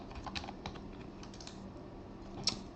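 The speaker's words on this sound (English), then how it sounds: "Simply I'm just typing here techglob" Someone types on a computer keyboard while setting up a Windows Server 2022 DNS host record, producing quiet, irregular key clicks with one sharper tap near the end, faint and close with no talking.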